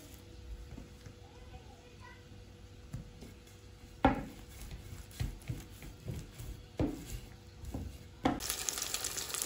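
Garlic shelpek flatbread frying in oil, with a soft sizzle beneath scraping and tapping of utensils on the pan, while someone talks over the cooking.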